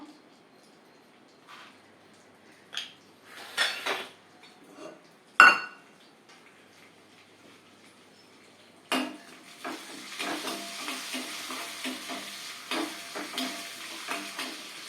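Urad dal and mustard seeds hit hot oil in a pan, giving a steady crackling sizzle in the second half after scattered utensil clinks and a sharp clank against the pot, with faint soft talking beneath.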